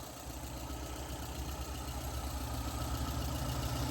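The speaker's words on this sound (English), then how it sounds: "it makes some little engine noise here and there" A 1995 Geo Metro LSi inline-four engine idling, a steady low mechanical hum with a faint rhythmic knock, even and continuous at close range with no talk.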